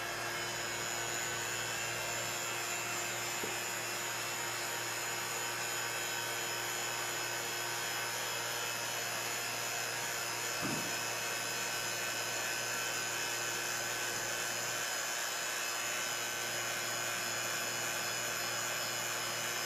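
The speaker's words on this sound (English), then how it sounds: "Then we're gonna cover it with the vacuum chamber and then turn it on and see what happens." A vacuum pump runs on a chamber covering a beaker of water, making a steady, fairly quiet mechanical hum that holds unchanged for about twenty seconds, broken only by a few faint knocks.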